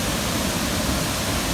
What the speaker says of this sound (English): widest waterfall I've been to in Costa Rica.